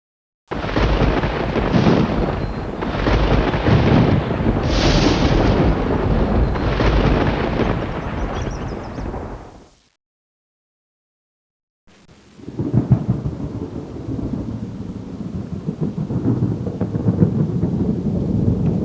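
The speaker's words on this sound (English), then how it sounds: "Read the questions below. Then fill in the blanks to learn some amazing facts about thunderstorms." Rain hisses steadily under rolling thunder in a computer nature encyclopedia's thunderstorm scene, loud for about ten seconds, then a short gap of silence before a deeper rumbling storm with rain returns.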